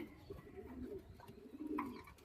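Soft pigeon cooing, low and murmuring, repeats quietly inside a pigeon loft with faint background noise.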